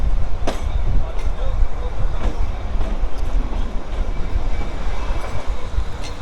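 The Kalka-Shimla toy train rolls along at low speed with a steady rumbling clatter of wheels on the narrow-gauge track and faint squeals, loud and continuous from on board, with a voice talking over the noise.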